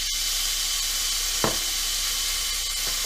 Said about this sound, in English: While the peppers are sizzling here and getting done